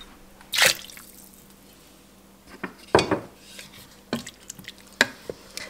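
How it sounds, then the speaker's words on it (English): Water added to a pot holding home-canned chicken stock for pressure cooking potatoes, heard as a few short splashes and clinks against the pot, spaced apart at close range with no voices. "I'm gonna add a little water in here just to get the rest of that goodness."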